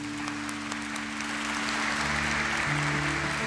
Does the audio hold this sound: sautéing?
no